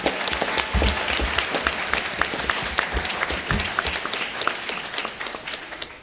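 An audience at a regional science bowl competition applauds sponsors, a dense burst of many hands clapping together at a steady level before gradually thinning and fading toward the end.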